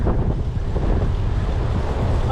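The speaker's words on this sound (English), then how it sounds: "the wind has been pretty insane" Strong gusting wind roaring across the microphone on a bikepacking route along Hadrian's Cycleway, a loud, continuous low buffeting rumble with no let-up.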